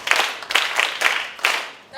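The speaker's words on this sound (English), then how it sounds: "Clap for Gloria" Children at a book festival reading session clap in a short, uneven burst of a few handclaps, close by, with a voice starting at the very end.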